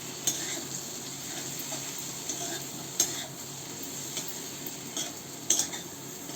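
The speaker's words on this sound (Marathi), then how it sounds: "हे सगळं चांगलं मिक्स करून घेऊ" Spices such as garam masala and coriander powder being stirred into vegetables frying in a pan, a soft steady sizzle with occasional spoon scrapes and clinks against the pan.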